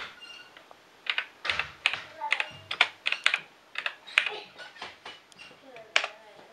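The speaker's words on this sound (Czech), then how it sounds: "Klávesnice je kvalitní, dobře se na ní píše." Keys clacking on the keyboard of a Thomson TO9 home computer, a close, uneven run of sharp taps with short pauses between bursts and no talk over it.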